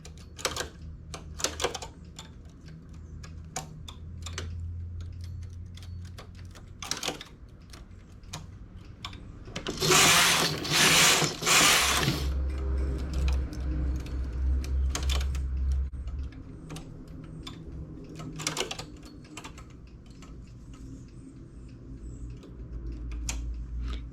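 A domestic knitting machine knits rows for a round sleeve, with its carriage producing clicking, ticking mechanical rattles and a louder sliding sweep in the middle, close and moderately loud with no talk.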